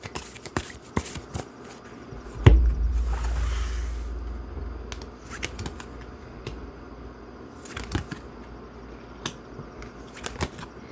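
Tarot cards being shuffled by hand, with a steady papery riffling and scattered sharp card snaps and taps up close. A brief low thump comes early on and there is no talk.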